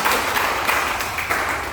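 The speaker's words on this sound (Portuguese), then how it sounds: "Vamos dar uma salva de palmas aí" Applause from a church congregation at a Sunday school gathering, a brief steady wash of clapping at moderate level with no break across the short moment.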